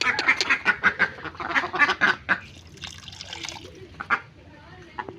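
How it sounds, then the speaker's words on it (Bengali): Domestic ducks quacking in rapid, repeated bursts close by at a rural home during feeding, noisy at first and then thinning to scattered calls, with faint background movement. "দেখেন হাঁসগুলো এখন বের হয়ে আসছে খাবার খাওয়ার জন্য"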